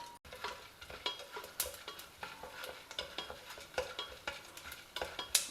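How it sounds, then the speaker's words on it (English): Groundnuts, chana dal and urad dal fry in a pan, a light crackling sizzle punctuated by frequent scraping and tapping of a stirring spoon, close up and without any voices. "Fry these till the dals are well browned."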